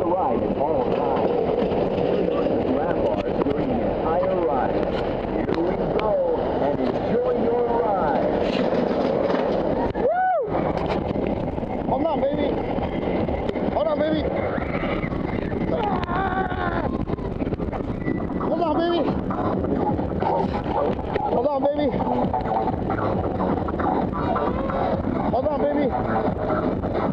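The El Loco roller coaster at the Adventuredome in Las Vegas rattles along its track with a constant loud rumble, clatter and wind roar, and riders' voices rise and fall over the noise throughout.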